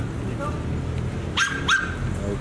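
Protection-trained dogs bark during a training session, two sharp barks standing out over a steady low background hum and faint chatter.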